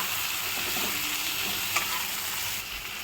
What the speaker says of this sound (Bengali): এবার এটাকে ভালো করে নাড়াই।